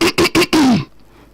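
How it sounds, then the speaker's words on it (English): A man clears his throat: three short guttural rasps in quick succession, then a longer falling throat sound that fades to quiet, close and fairly loud. "He cleared his throat."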